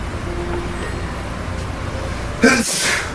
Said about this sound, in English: Bless you. He said go, not sneeze.